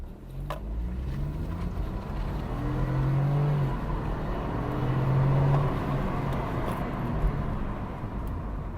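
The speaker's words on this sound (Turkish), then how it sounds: "şu ara hızlanmalarımız güzel olsun en azından" A 2016 BMW 118i in sport driving mode, heard from inside the cabin as a steady engine drone that rises and falls with acceleration over continuous road noise.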